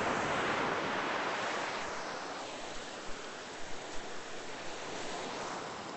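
Ocean surf washes steadily onto a sandy beach at sunrise on the Mexican coast, a continuous loud broadband roar with soft surges and a few brief splashes toward the end, no voices.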